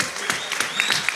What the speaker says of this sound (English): I think we need another round of applause for our amazing moderators.